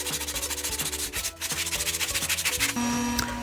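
Hand sanding of a rounded, bean-shaped wooden coffee table, rapid rhythmic rasping strokes close up, loud and continuous, ending in a steadier hum.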